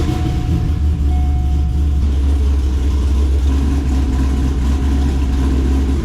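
Cold start of a cammed Corvette fitted with new mufflers after sitting overnight: a loud, steady, lumpy idle rumble runs the whole time, close up, with no talking.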